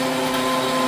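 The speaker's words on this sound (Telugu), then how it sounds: "సో కాసేపు మిక్సీ కొట్టేస్తాను" A kitchen mixer grinder runs with a steady, loud motor whine and hum, close by, with no break through the short stretch.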